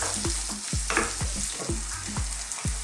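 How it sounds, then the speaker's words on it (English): Garlic and ginger paste frying in a pan for an Indian mushroom and pea curry, a steady close sizzle broken by regular scraping strokes of a spoon as it is stirred, with no talking. "And then let's cook these now for about 3 to 4 minutes, stirring often."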